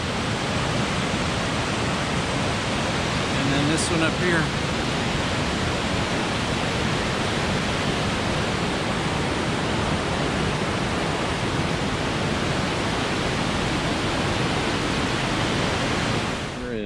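Two waterfalls meeting at Vogel State Park in Georgia give off a loud, steady rushing roar that fills the whole stretch close by, with someone briefly speaking over it early on.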